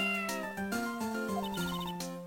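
A cat meows in the Phoenix Wright: Ace Attorney – Justice for All game, short repeated game-style cries over a bright melodic music track, fairly loud and continuous.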